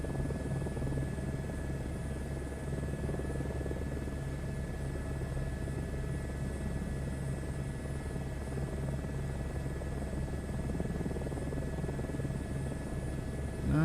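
A helicopter hovers over a drop area in Microsoft Flight Simulator 2024, its rotor and turbine making a steady, loud, continuous drone with a buzzing hum that stays unchanged throughout, with no talking.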